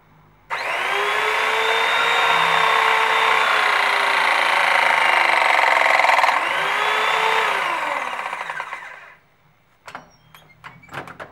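Electric crimping tool pressing a 26 mm multilayer pipe fitting: a loud, steady motor whine runs for about eight seconds with a slight pitch dip midway, then cuts off, followed by a few sharp mechanical clicks.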